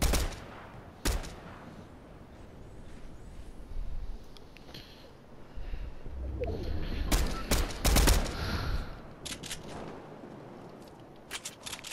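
Gunfire in Fortnite, including sniper shots, cracks out in scattered bursts of several sharp reports, some loud and close, others more distant, with a brief voice now and then.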